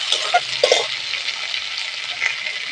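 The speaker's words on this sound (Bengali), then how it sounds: "ধনে পাতা টমাটম কয়েকটা লঙ্কা একসঙ্গে সব দিয়ে দেবো দিয়ে নাড়াচাড়া দিয়ে নেবো" Coriander leaves, tomato and chillies fry with onion and garlic in a pan for an idli chutney, giving a steady sizzle with a few scraping knocks of stirring near the start.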